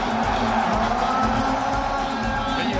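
A crowd at a Laamb wrestling match in Senegal roars and cheers in a dense, continuous wash of voices and whoops, loud and surrounding, with speech mixed into the din.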